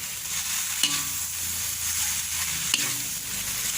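Yellow noodles stir-fried with sugar, fish sauce and black soy sauce give off a steady close sizzle, with a couple of soft scrapes of the spatula against the pan.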